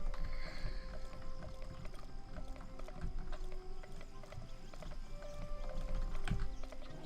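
Horse hooves clip-clop at a steady trot while riding in a video game, soft and continuous under quiet ambient game sound and faint clanking.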